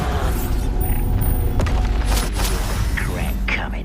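A Bombarda spell explosion in Hogwarts Legacy: a deep, rumbling blast with sharp cracks layered over a sustained low roar, while a voice is heard.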